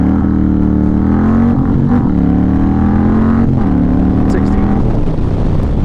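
An Indian Chieftain Dark Horse motorcycle launches hard from 0 to 60, its engine droning loud and steady with rising pitch across a couple of gear changes, heard up close over wind rush.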